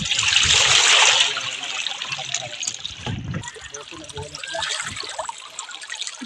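Water sloshing and trickling as a small sunken boat is pushed under, loud close splashing at first, then gurgling and dribbling, with people talking over it.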